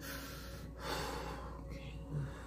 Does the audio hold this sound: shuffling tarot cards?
no